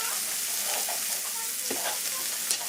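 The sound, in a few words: onions and celery sweating in a pan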